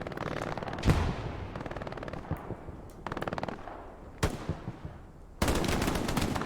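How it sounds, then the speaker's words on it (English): Bursts of automatic machine-gun fire in a large-scale 18-versus-18 online battle game, several separate volleys with gaps between them, loud and close, ending in a sustained burst. "Looks like we've got an MG out here"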